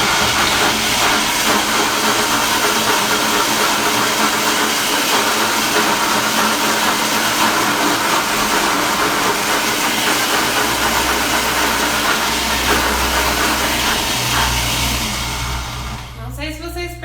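A blender whirs through thick pink lentil pancake batter with grated nutmeg, turmeric and garlic, a loud, steady motor drone held for about fifteen seconds before it winds down and stops.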